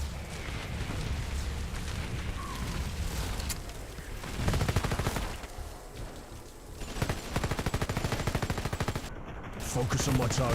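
Light machine gun fire in Red Solstice 2, with long rapid bursts of automatic shots rattling over a dense battle din and thuds of other weapons, loud and continuous with brief lulls.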